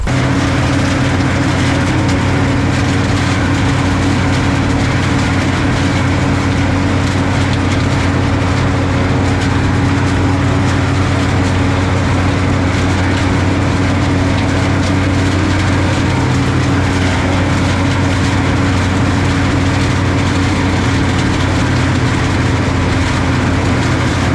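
A farm tractor engine runs steadily during a bean harvest, a loud, continuous low rumble with a constant drone and no pauses or voices.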